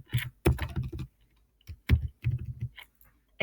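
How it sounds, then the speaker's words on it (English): Bursts of typing on a computer keyboard, clustered keystrokes in quick uneven runs with short pauses between, close and fairly clear with no voices. "you can open the notepad and you can type in your notes"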